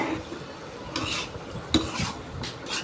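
Cut pieces of country chicken being stirred in a pot with a spoon: several scraping, clattering strokes against the metal at irregular intervals over a faint sizzle, close by, with no talking.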